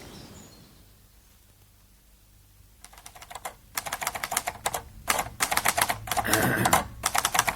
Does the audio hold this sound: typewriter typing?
yes